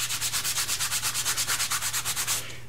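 Abrasive wipes scrub back and forth across a metal Dumore tool post grinder case in quick, even strokes, about a dozen rhythmic rasping rubs close up before they stop.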